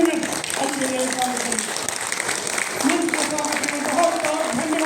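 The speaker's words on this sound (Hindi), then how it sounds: "खड़े हो जाइए और ताली बजाइए" A seated crowd at a political party meeting in Uttar Pradesh claps in a dense, sustained round of applause throughout, with a voice speaking over it.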